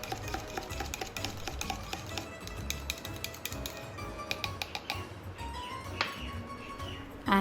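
Instant yeast and honey stirred together in a bowl for no-knead focaccia dough, giving a steady run of light clinks and scraping taps from the utensil against the bowl, close and fairly quiet with no talking.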